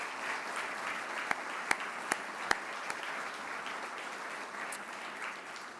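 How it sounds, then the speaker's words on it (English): Applause for LPGA champions at a ROLEX LPGA awards event, a soft, steady spatter of many hands in a large room with a few sharper nearby claps standing out. "let's give those great champions one more proper golf clap"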